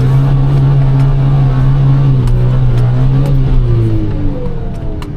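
Suzuki Jimny JB23W engine held against the rev limiter in first gear, four-wheel low, while wading a pond: a loud, steady high-revving drone with a bouncing limiter buzz, close up, fading slightly at the end.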